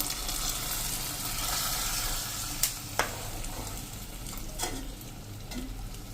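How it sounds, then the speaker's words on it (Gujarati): Drumstick curry in gravy is mixed in a pan on a gas stove, giving a low sizzle under occasional clinks and scrapes of the spoon, with no voices. "અને મિત્રો એને આપણે આ રીતે હવે ગેસ ઉપર જ મિક્સ કરી લેશું."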